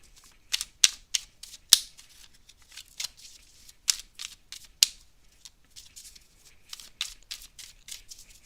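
Tarot cards are handled and shuffled up close, giving a run of crisp, papery snaps and riffles at an uneven rhythm that grows loud and quiet again, with no talk over them.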